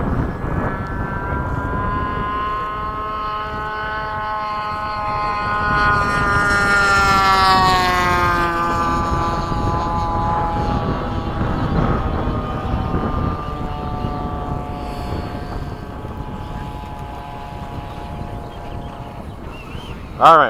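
An F-5 and an F/A-18 fly in formation over Bayside, a loud sustained jet roar with a sweeping rising and falling whine as they pass overhead, under steady wind noise.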